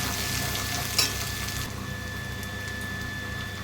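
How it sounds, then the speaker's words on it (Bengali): Chicken frying dry in a pan with chili powder, a constant close sizzle, with a single clack of a spatula as it is stirred. "লঙ্কার গুঁড়ি, ভালো করে আমি নাড়িয়ে।"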